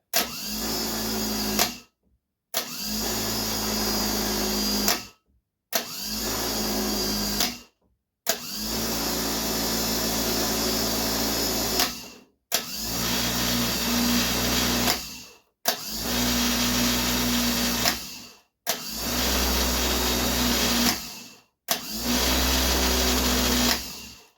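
A repaired starter motor from a VAZ 2101-2107 is bench-tested in eight separate bursts, each a loud steady electric whir lasting one to four seconds, cut off abruptly with short silent gaps between runs.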